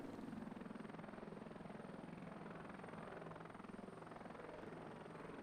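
A helicopter in the combat flight game Heliborne drones steadily, its rotor thumping in a fast, even pulse under a constant engine whine, with no voices.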